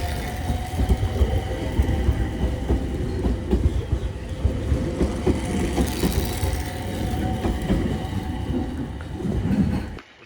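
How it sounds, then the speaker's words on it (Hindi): A train in Japan rounds a curve through snowy countryside, a steady loud rumble of wheels on rail with rhythmic clickety-clack and metallic squeal, continuous for about ten seconds before cutting off. "ट्रेन कर्व कर रही थी"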